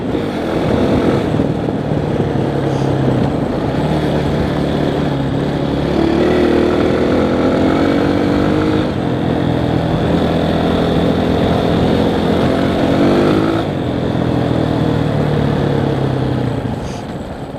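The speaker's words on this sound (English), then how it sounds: "I love the grunts of this bike though." A Honda CRF dirt bike engine grunts and revs off-road, rising and falling in pitch with throttle changes, steady and loud throughout with no talk.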